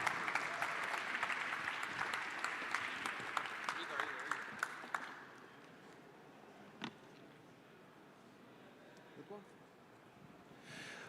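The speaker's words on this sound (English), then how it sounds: "let's give Igor a massive round of applause." An audience at the ETHGlobal San Francisco 2024 opening ceremony applauds to welcome Igor from ETHDAO, a dense burst of clapping that fades out after about five seconds, followed by quieter room sound.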